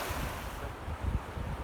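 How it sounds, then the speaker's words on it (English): Floodwater of the swollen Russian River rushing past, a steady low roar of churning water mixed with wind buffeting the microphone, continuous and fairly close. "Huge river. It's the Russian River."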